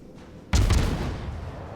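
Ship gunfire in a naval video game: a single sudden heavy cannon blast after a quiet moment, booming loud and then rolling off into a lingering rumble.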